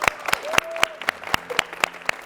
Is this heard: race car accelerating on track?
no